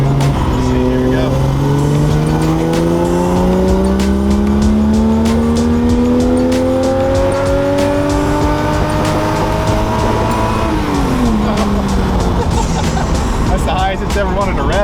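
A car engine with suspected worn spark plugs revs hard and climbs steadily to a high RPM, holds a loud strained howl, then falls away near the end, with people's voices partly audible underneath.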